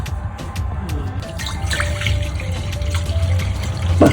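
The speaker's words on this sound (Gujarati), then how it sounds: "અને પાણી થોડું મેળવાનું" Water is poured in while making dhokla, a soft, close trickle and splash that runs steadily for several seconds.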